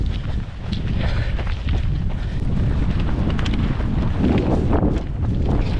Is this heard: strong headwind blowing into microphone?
yes